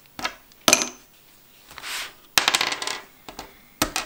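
A die is rolled in a board game called Turnier der Götter, clattering sharply against the playing surface in several quick hard knocks and tumbling bursts, close up with no talk.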